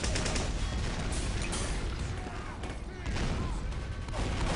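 Steady, relentless gunfire from a gun in Team Fortress 2 on Badwater Basin, loud overlapping shots and explosions that fill the whole stretch, with a person talking excitedly over it.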